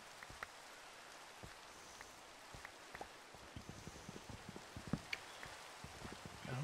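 Rain falls in the video game Minecraft as a faint, quiet patter with scattered sharp droplet ticks that grow denser toward the end, with no voices over it.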